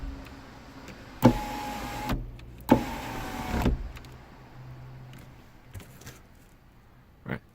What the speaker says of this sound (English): So that's how the motor is moving.